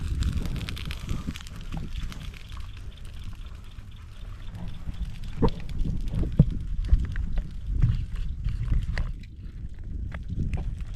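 Strong wind roars and buffets steadily across the microphone, with occasional crackles and knocks, no voices.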